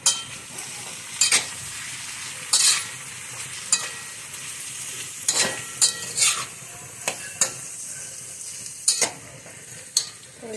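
Boiled potatoes tossed with garlic and chili paste in a pan, stirred with repeated sharp spoon scrapes and clinks every second or so over a soft steady sizzle.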